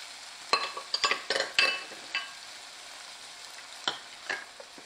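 Okra masala gravy of tomato and green chilli paste being stir-fried on medium flame, with a soft steady sizzle broken by scattered clinks and scrapes of a spoon against the pan, close and moderately loud.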